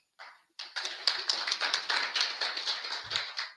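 At a presidential debate, an audience claps for the event organizers in a dense, fairly close burst of rapid hand claps. It begins with a brief spatter, then settles into steady applause.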